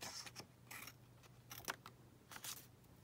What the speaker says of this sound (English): Let's just cut that in a bit further.